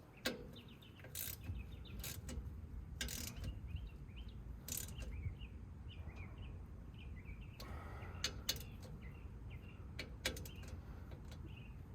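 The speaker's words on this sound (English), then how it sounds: "I'm going to grab a wrench, make sure I'm happy with the tightness" A wrench tightens a rebuilt Bendix AD9 air dryer on a cabover truck, giving scattered clicks and short metallic ratcheting bursts over steady low background noise, with birds chirping faintly outdoors.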